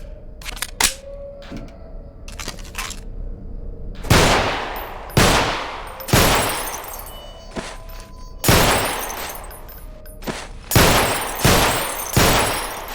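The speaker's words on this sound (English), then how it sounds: "firing from the hip is not an easy business, especially with a sidearm" Pistol shots fired from the hip in a Half-Life 2 mod shooter game ring out one after another in an irregular string of about a dozen loud, sharp reports with short decaying tails, no talking.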